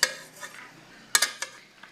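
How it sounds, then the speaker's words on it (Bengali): Metal spoon scraping and clinking in a pan of hot oil while stirring cinnamon sticks and cardamom pods, a few sharp taps and scrapes in quick bursts with quiet pauses between. "তেলটা আমার গরম হয়ে গেছে, দিয়ে দিচ্ছি দারচিনি আর এলাচ দানা কয়েকটা। এটাকে একটু আমি নেড়ে নিব।"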